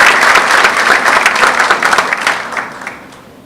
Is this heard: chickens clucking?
no